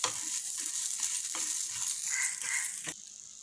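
Coconut pieces fry and are stirred in a pan, a steady broad sizzle with soft scraping strokes and a few sharper clicks of the spoon against the metal, ending abruptly near three seconds into a quieter hiss.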